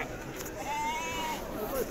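A single sheep bleats in the middle of a livestock market, the Tuesday souk in Azrou, with a steady crowd murmur and market chatter underneath.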